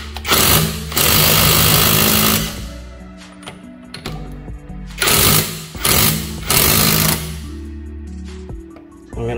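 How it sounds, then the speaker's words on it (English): An impact drill with a 21 mm socket rattles loudly in several bursts, removing a Genesis G70 wheel, hammering in short rapid pulses with pauses between them, close by. "I'm using an impact drill here, 21 millimeter socket is what you need."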